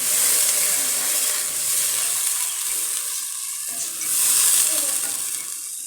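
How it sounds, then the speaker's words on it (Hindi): Onions fry in a pan while ginger and garlic go in, making a loud continuous sizzle and hiss that swells, dips slightly and then rises again. No voices break through. "अब इसके अंदर हम डालेंगे अदरक लहसुन जल्दी से"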